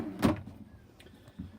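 A metal tool chest drawer slides open with a single short rolling scrape, close and moderately loud, then a faint softer bump as it settles in a quiet room.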